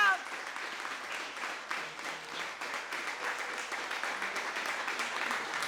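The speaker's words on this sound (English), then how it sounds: "A round of applause for all of our readers" An audience claps for the readers at a Juneteenth remembrance reading event, giving a dense, even wash of applause that holds steady throughout, with faint voices mixed in.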